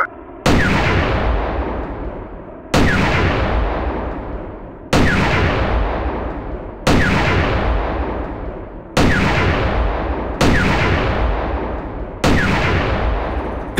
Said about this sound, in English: Battery, make ready to fire. 21 rounds sequential.